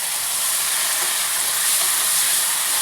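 Masala and yogurt being fried sizzle and hiss steadily in a hot pan, a loud, continuous bright crackle with no pauses and no talking.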